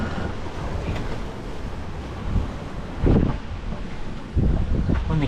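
Wind and breaking ocean waves at sea aboard a small sailing yacht on a solo passage, a steady broadband rush with louder wave surges washing in near the boat, low talk now and then.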